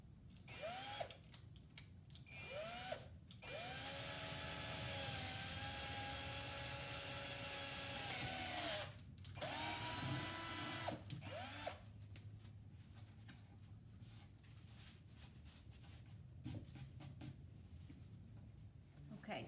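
A power drill bores rope holes through a board, its whine rising in several short bursts and one long sustained run, close and loud, with a voice talking between the bursts.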